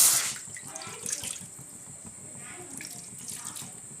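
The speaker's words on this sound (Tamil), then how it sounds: "இப்போ நம்ம வந்து ஒன்றரை கிளாஸ் தண்ணி ஊற்றிடலாம்" About one and a half glasses of water poured into a hot pan while cooking Maggi noodles omelette, a faint trickling, splashing pour under low background noise.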